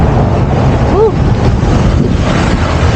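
Loud, steady wind roars across the microphone in a constant rushing blast during a bicycle ride, headwind, with a faint brief tonal chirp partway through.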